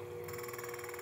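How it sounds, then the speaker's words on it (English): Burrs of an Ode Gen 2 coffee grinder touching give a faint, fast, even run of tiny ticking scrapes, close and quiet, starting just after a brief hush. "you wanna rotate until you hear the burrs touch"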